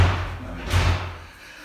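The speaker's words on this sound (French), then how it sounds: "La porte elle fait comme ça toute seule." A wooden door swinging on its own lands two dull, close thuds a moment apart, each a low bang that quickly dies away.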